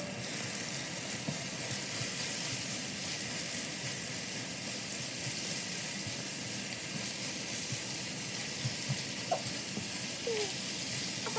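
Cabbage fries in a pan with carrots and onions, giving a faint, steady sizzle and hiss throughout, with a few small clicks and no talking.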